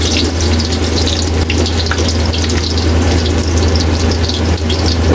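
Garlic frying in hot oil in a pan for beef afritada, a steady loud sizzle with dense crackling that holds evenly throughout, no voices.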